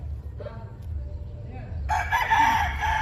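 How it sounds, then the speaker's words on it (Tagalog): A rooster crows loudly and close by in the second half, after quieter rumbling background noise and faint clucks. "Magandang manok, oh."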